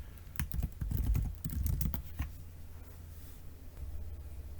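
Rapid clicking of keys on a computer keyboard, a dense flurry of close taps for about two seconds, then a sparse final tap and quiet.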